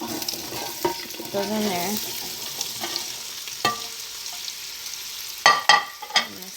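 Chopped vegetables sizzle and fry in olive oil in a stew pot for beef stew, a steady close crackle with a few sharper spikes of stirring near the end and a brief spoken remark.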